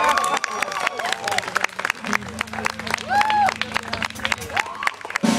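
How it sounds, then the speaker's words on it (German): Crowd at a summer festival claps and cheers, with busy overlapping applause, shouting voices and a low hum running underneath. "ich denke, das ist ein Applaus wert"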